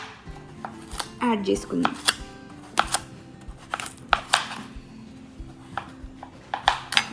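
Fresh raw coconut is chopped into small pieces on a board with a knife, giving a run of sharp, irregular close knocks while someone talks quietly.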